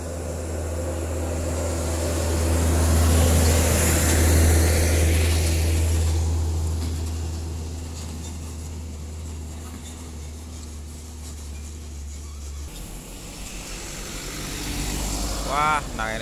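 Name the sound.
vehicles overtaking each other on forest road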